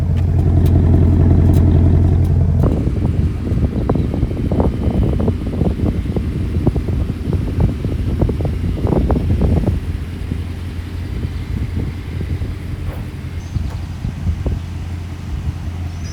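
A Ford Mustang Mach 1 with an H-pipe exhaust drives along, its engine a loud, rough low rumble that climbs and pulses with throttle, then eases to a steadier drone under wind noise.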